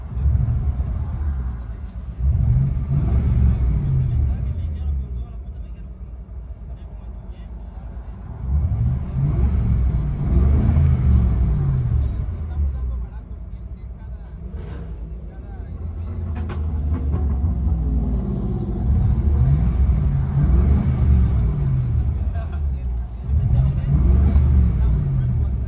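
Interior view of a 1980 Mercedes 450SEL with a 4.5L V8 and Borla Pro-XS exhaust, deep low rumble swelling in repeated revs and easing back between them, loud and close.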